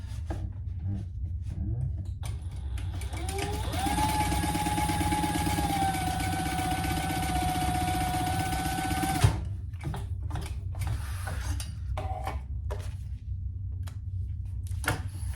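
A sewing machine runs a steady top stitch to close off a small fabric sling pouch, a continuous motor whir lasting several seconds before stopping, with quieter handling and fabric sounds before and after.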